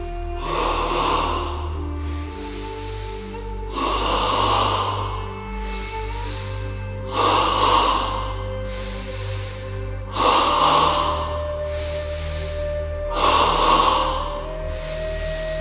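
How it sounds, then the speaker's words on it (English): Double breathing into the abdomen in a beginner yoga session, seated or reclined: five forceful nasal breath bursts come at even intervals over a soft musical bed, each one a close, sharp rush of air. "ready for stage 1 double breathing in the abdomen, 10 times"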